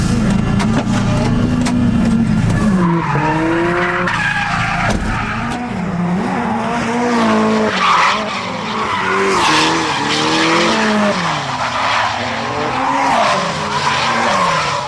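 D1 drift cars practicing for an Ebisu event, loud engines revving and bouncing through the rev range with long, wavering tire squeals, close and continuous.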